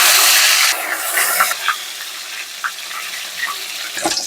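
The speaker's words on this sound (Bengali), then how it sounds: "তেল গরম হয়ে গেছে, বেগুনগুলো ভেজে নিচ্ছি।" Eggplant slices fry in hot mustard oil in a wok, opening with a loud, bright hiss that settles into a softer, steady crackling sizzle with scattered pops.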